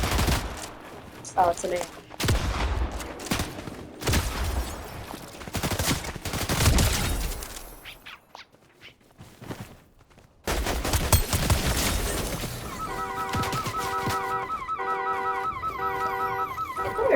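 Rapid bursts of gunfire from a Fortnite weapon, loud and close, fired in repeated volleys with a brief quiet gap, ending in a steady electronic whir; a person speaks briefly.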